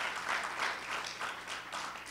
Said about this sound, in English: Let's give her one more round of applause because that was so powerful.